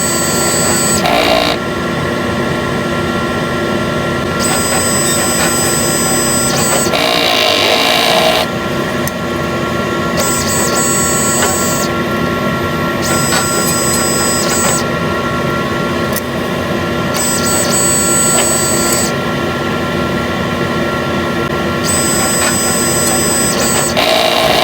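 Sublimation printer running a head-clean cycle, a steady mechanical whir and rasp that continues throughout, with repeated bursts of high-pitched whine switching on and off at intervals.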